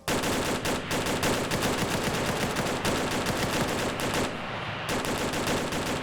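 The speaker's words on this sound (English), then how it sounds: "He's firing under the truck." Sustained machine-gun fire in a multiplayer police-versus-terrorists combat game, dense rapid bursts that run almost continuously with a brief lull near the end, loud and close with no voices.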